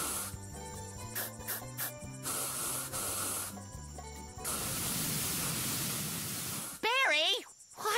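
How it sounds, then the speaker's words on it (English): A hissing spray of liquid weedkiller bursts out over a stretch of broadband noise in a cartoon, with voices and other sounds around it, ending in a rising, warbling squeal. "watch where you're spraying"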